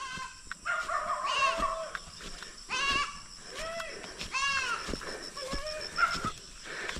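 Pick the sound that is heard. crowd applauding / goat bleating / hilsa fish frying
goat bleating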